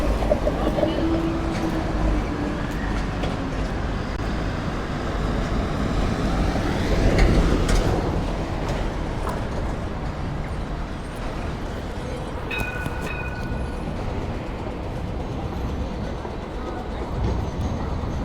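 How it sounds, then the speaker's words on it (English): A Sydney light rail tram heading to Circular Quay rolls past on a city street, a sustained rumble and rising whine peaking midway with brief metallic squeals, amid traffic and street noise. "Here goes the tram to Circular Quay."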